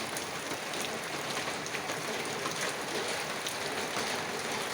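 Steady rain pours over a lush green garden seating area in Thailand, a dense even hiss of drops pattering on surfaces with no talking.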